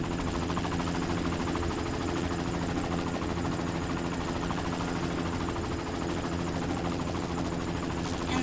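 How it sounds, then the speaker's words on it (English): A helicopter in the video game Secret World Legends, a steady droning rotor and engine hum with rhythmic chopping, constant and close for the whole stretch. "Send us a new helicopter."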